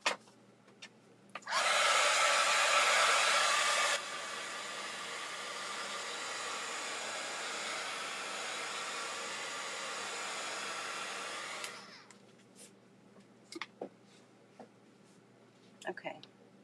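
A heat tool blows hot air over a craft project. It starts as a loud, close whoosh for a couple of seconds, then drops to a quieter steady hiss for several more before cutting off, followed by light handling clicks.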